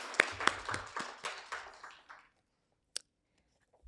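A small group claps for a few seconds at a ceremony, the applause quickly thinning and fading out, followed by one last isolated clap.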